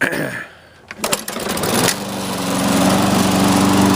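A Lawn-Boy lawn mower engine started outdoors in about 8 degree cold: a sharp pull-cord clatter and a couple of sputters, then the two-stroke engine catches and settles into a loud, steady buzzing idle.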